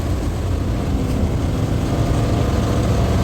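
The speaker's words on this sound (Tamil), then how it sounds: "ஸோ இன்ஜின் சவுண்டு கேட்கும்னு நினைக்கிறேன் உங்களுக்கு எல்லாருக்கும்." A 12-wheel lorry runs downhill in second gear at high revs: a loud, steady diesel drone with deep low rumble, heard from inside the cab, continuous and unchanging, with no talk.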